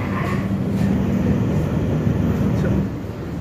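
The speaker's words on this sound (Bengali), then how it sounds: "10টা 58 মিনিটে ব্যান্ডেল জংশন ছেড়ে দিয়েছে আমাদের ট্রেন" Agartala Garib Rath Express pulling out of Bandel Junction, a steady low rumble and hum of the moving train continuing throughout, fairly loud and unbroken, easing slightly near the end.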